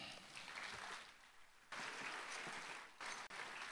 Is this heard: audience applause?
yes